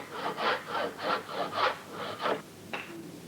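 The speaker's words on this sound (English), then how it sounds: "I saw down to the line on both sides." Hand saw cutting down to the line in wood for a halving joint: about eight rhythmic rasping push strokes, close and steady, followed by a short knock near the end.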